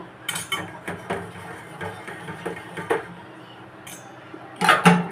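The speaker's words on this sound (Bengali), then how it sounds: "এবার এটাকে আমি ঢেকে দেব।" Metal clatter of a pot lid going onto a cooking pot of steamed koi fish on a gas stove, a few light clinks and a louder scraping clank at the end, close by.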